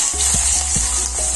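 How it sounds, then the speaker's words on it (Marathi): Cumin, mustard seeds, asafoetida and onion sizzle loudly in hot oil for a Marathi home-style dish, a steady close frying hiss broken by a few soft stirring knocks. "तेल तापलेलं आहे, आपण जिरं मोहरी टाकू, हिंग, कांदा,"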